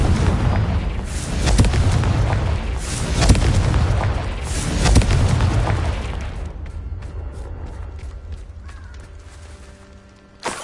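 Repeated heavy booms from Confringo fire-spell blasts in Hogwarts Legacy, several loud bursts in the first six seconds with rumbling tails, then fading to a quieter ambient hum and a final small pop.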